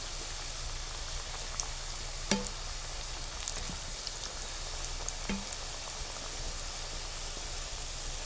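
Papad frying in hot oil in a kadhai while being stirred gives a steady, faint sizzling hiss throughout, with a couple of sharp clicks from the stirring spoon.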